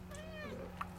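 A large male house cat meows close by indoors, one drawn-out falling meow followed by a short chirp-like sound, clear over a low hum.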